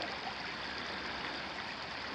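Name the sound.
flowing creek water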